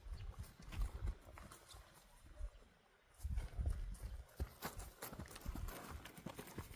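A horse moves at a walk and trot in circles without a lunge rope, its hooves clip-clopping on the ground in an uneven, continuous rhythm, fairly close, with a brief lull midway and no talk over it.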